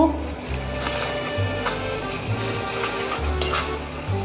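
Ground chili and turmeric spices being stirred in a hot pan for a Bengali mutton curry, a steady sizzle with soft scraping strokes, close and moderately loud, with a low hum beneath.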